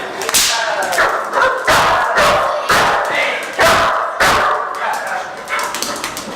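A guard dog barks repeatedly at a stranger during protection training, sharp loud barks in a fast irregular series of about ten, with voices and crowd noise around them.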